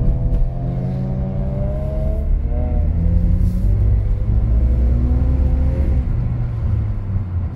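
A BMW E46 drift car's engine revs in the snow, loud and close, with pitch swings as the revs climb and fall while it drives through a winter drifting run.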